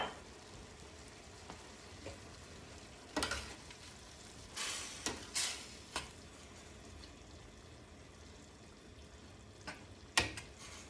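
Wine simmering and sizzling in a pan with seared fish, a steady close bubbling hiss broken by several louder bursts of spattering and stirring scrapes, no voices.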